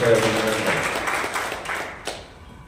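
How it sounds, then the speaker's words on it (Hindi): Applause from an audience at a BJP OBC Morcha city conference, a dense broadband patter that is loud at first and slowly thins out, with a voice speaking over it at the start. "एक बार जोरदार तालियों के साथ स्वागत किया।"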